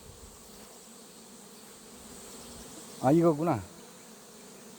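Honeybees buzz steadily around a styrofoam hive box in an apiary, a low continuous hum running throughout, briefly overlapped by a short spoken remark near the end.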